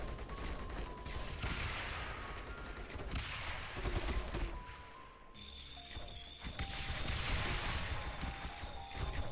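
Mortar towers in the tower-defense game Rogue Tower fire and impact repeatedly, a dense barrage of booms and crashes rolling continuously over layered game sounds, loud and steady throughout.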